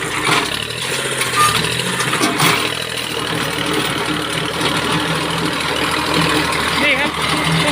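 Kubota L2000 small tractor engine running with the PTO engaged in fourth gear, a steady mid-pitched diesel drone with some knock, close and loud, while someone talks over it.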